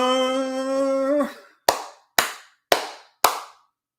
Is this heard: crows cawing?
no